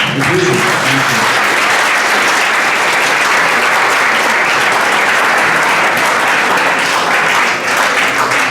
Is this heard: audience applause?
yes